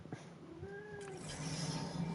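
A pet cat meows with a drawn-out, rising then falling call, fairly close and moderately loud, over a steady low background hum from video game audio, no talk over it.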